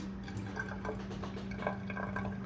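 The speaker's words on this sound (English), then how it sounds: "Hopefully it's very clear here how it's bubbling." Hydrogen peroxide poured into a sink fizzes and bubbles, a steady soft crackle of tiny popping bubbles with faint dripping, close and continuous throughout.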